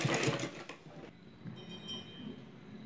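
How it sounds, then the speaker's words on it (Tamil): A sewing machine stitching slowly on a blouse back thread, a short burst of mechanical whirring and clatter at first, then a quiet hum and faint ticking. "இந்த நீங்கள் த்ரெட்டை நல்லா கையில் இழுத்து பிடிச்சிட்டு அப்படியே மெதுவாக தைங்க."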